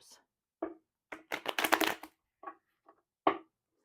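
Tarot cards being shuffled by hand produce a series of short papery riffles and taps with one denser burst in the middle, close and fairly quiet, with no talking.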